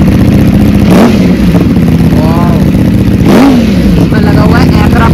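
A 1977 NC50 motorcycle engine revs loudly and close, rising in two sharp bursts over a steady idling chug with some mechanical clatter between them.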